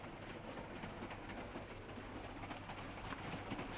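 A moving train in a 1940s-style drama heading for Washington, with a faint, steady rumble of rail cars rolling along the tracks and a soft clatter throughout, no one speaking.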